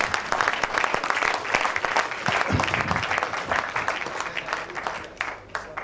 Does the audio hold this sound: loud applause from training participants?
yes